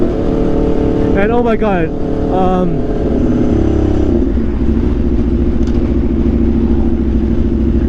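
Aprilia RSV4 motorcycle fitted with an SC-Project CRT exhaust, its engine rising in a couple of quick revs before settling into a loud, steady rumble, with people talking excitedly over it.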